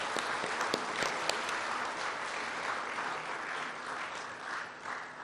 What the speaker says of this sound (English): let us to him give the loudest applause